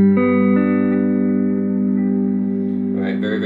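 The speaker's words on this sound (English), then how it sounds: "I'll be using my Bohemian TNT guitar that I showed earlier with the P90 pickups to test all these settings" A Bohemian TNT guitar played on its P90 neck pickup through a Spark 40 amp on a clean setting, a sustained strummed chord ringing steadily with rich harmonics, a few new notes picked near the end.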